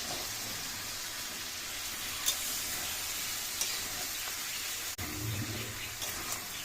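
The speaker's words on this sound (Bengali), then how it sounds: "এবার আমি মাংসটা আবার কষাবো" Chicken pieces fried with spice masala in a pan for a home recipe, giving a steady close sizzle with a few brief stirring scrapes and no talking.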